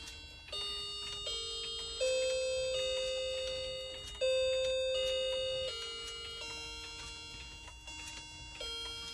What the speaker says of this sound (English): Oh, her alarm actually goes off first.